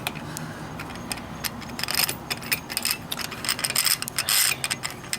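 Bolt on a frame slider being tightened during installation on a 2012 Suzuki GSX-R motorcycle, heard as a close, steady run of rapid ratchet clicks with metallic ticking, growing busier and louder toward the end.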